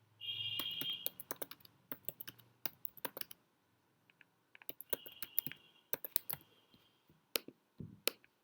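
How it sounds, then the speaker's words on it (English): Quiet, close computer keyboard typing in short irregular bursts of crisp clicks, broken by a brief pause midway, with a faint electronic tone in the background. "I am going to type that multi-line text"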